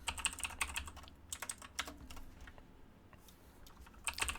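Rapid clicking keystrokes on a computer keyboard, close and crisp, coming in uneven bursts with a short lull in the middle and no voices.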